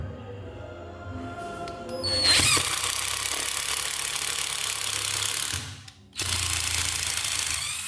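A Ryobi 12V cordless impact screwdriver whirs loud and close, starting up about two seconds in, running steadily, cutting out briefly, then revving again; no speech over it.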